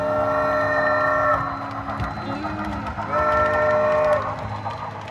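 An O scale Milwaukee Road model train runs with a steady mechanical rumble, and a horn sounds twice in sustained blasts about two seconds apart, fairly close and loud.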